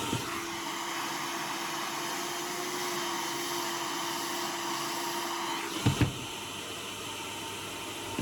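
A hair dryer blows steadily while drying hair, a constant loud airy whine with a faint tonal hum, briefly cut off by a couple of clunks near the end before resuming, no speech.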